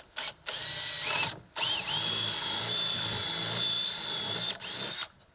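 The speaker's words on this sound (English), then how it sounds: "So I'll just drill a hole here." A power drill bores an entry hole for a jigsaw blade, whining in a steady high-pitched run, with brief stops and a restart near the start and a short pause near the end, loud and close with no talk.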